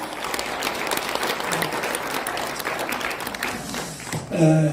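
A crowd at a public citizens' hearing in a press centre claps steadily, a dense sustained applause that carries on until a voice begins speaking at the very end.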